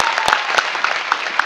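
Audience applause fills a hall with steady, dense clapping and a few sharper individual claps standing out, continuous through the short stretch.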